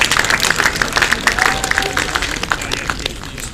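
Applause from an archery crowd at the recurve team finals, scattered claps and light cheering over murmuring chatter, moderately loud and gradually thinning out.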